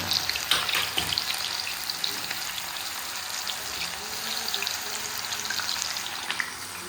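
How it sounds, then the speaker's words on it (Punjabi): Cauliflower pieces coated in cornflour and masala deep-frying in hot oil for honey chilli gobhi, a steady dense crackling sizzle with scattered pops, close and fairly loud throughout with no talking. "ਗੋਭੀ ਹੈ ਪਹਿਲਾਂ ਤਲ ਕੇ ਰੱਖਣੀ ਹੈ। ਗੋਭੀ ਨੂੰ ਫਰਾਈ ਕਰਨਾ ਫਰਾਈ"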